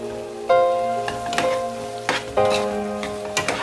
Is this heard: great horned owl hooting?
no